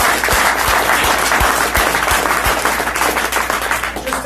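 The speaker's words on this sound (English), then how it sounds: "So Sandeep, Susan, let's give her a big round of applause." Big round of applause from a crowd at a hockey program event, dense sustained clapping throughout with a few louder individual claps standing out near the front.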